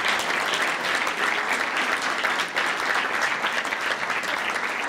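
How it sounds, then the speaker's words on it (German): An audience at a panel discussion event applauds steadily, dense even clapping that carries on for the whole stretch at moderate loudness. "Ich darf ganz herzlich bitten und auch um Applaus."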